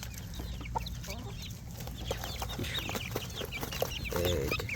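Several hens cluck softly and steadily while pecking at kale leaves in a vegetable garden, with scattered chirps and a low background hum throughout.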